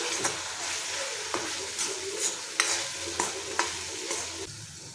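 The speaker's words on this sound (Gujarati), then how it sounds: "બધું જ આપણે સારી રીતે મિક્સ કરી લઈશું" Spices stirred into a potato and capsicum curry in a pan, a spoon scraping in repeated strokes over a steady sizzle of frying, close and fairly loud, with no talking.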